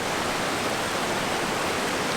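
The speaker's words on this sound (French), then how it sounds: "Donc là je suis en haut de la cascade." A waterfall in the Oulette chasm at Sainte-Sigolène, Haute-Loire, heard from the top of the falls as a loud, unbroken broadband roar of rushing water with no other sounds.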